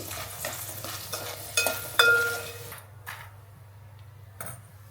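Edible gum (dink) frying in ghee in a kadhai while Methi Laddu is being made gives a close sizzle with stirring clinks and scrapes, including one sharp metallic tap, before the frying fades into near quiet.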